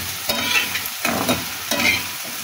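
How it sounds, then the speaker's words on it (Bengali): Taro stolons fry and get stirred in a pan with green chillies and chilli powder, giving a steady sizzle broken by a few scraping stirs, close and fairly loud with no talking. "এখন এটা ভালো করে ভেজে নিব"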